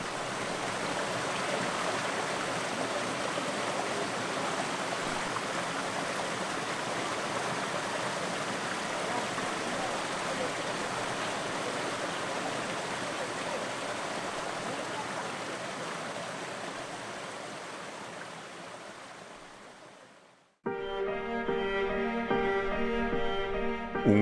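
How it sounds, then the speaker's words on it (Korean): The Ojang waterfall in Jeongseon crashes down a cliff as a loud, continuous broadband roar, close and unbroken for about twenty seconds before cutting abruptly to music. "웅장한 절벽 위에서 거대한 물줄기가 떨어져 내립니다. 정선의 오장폭포입니다."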